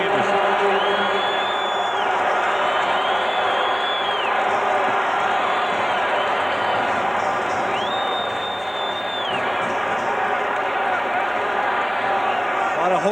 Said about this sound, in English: A lot of hopeful applause there for Morton Anderson. Crowd is on its feet now.